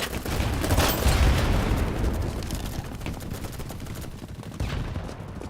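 Dense video game gunfire: a rapid, sustained barrage of overlapping shots and booms, loudest in the first two seconds, then continuing steadily with a fresh burst near the end.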